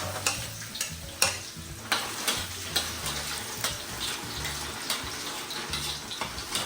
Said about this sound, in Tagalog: Magigisa na tayo ng sibuyas at saka bawang. Unahin natin yung bawang.